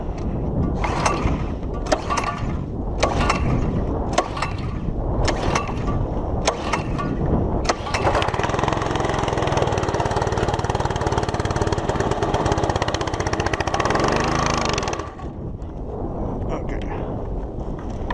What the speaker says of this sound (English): I'm going to turn it on, pull the choke out, and we're going to let this thing rip and see.